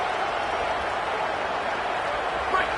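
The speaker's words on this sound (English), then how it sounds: "This crowd, full throat, splitting the eardrums" A football stadium crowd roars at Notre Dame vs Ohio State, a dense, loud, unbroken wash of cheering and applause lasting the whole stretch.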